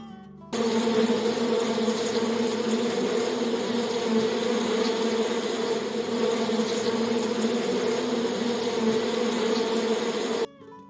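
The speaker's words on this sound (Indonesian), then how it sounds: "Ini adalah lebah, serangga yang hidupnya berkelompok dan termasuk kelas insekta." A bee gives a steady, continuous buzz, close and loud, holding an even drone for about ten seconds with no other sounds.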